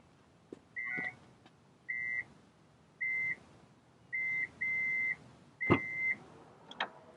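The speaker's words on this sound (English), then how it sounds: "It'll have a couple of beeps, and the back should open." A series of short, evenly pitched electronic beeps, about six, spaced a second apart in a quiet outdoor setting, followed by a faint mechanical clunk as a 2015 Hyundai Santa Fe Sport's smart liftgate opens.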